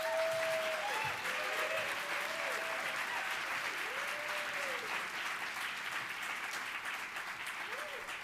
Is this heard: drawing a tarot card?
no